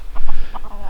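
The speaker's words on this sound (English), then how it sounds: "A few chickens down there." Several chickens cluck in short bursts on a backyard property, with a rooster among them, heard fairly close over low outdoor background noise.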